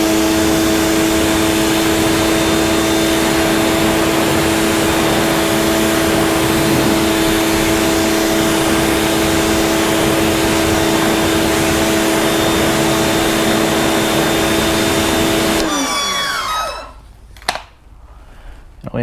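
A pressure washer spraying water onto a car wheel and tyre roars as a loud, steady, close hiss with a constant motor hum, then stops abruptly near the end, leaving a few faint clanks.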